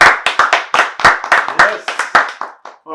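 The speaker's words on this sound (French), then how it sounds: "S'il vous plaît, on donne une bonne main d'applaudissement pour Miss Sweetie." An audience applauds for a performer named Miss Sweetie, loud sharp clapping close by in an uneven burst of slaps over about three seconds, trailing off with a brief voice at the end.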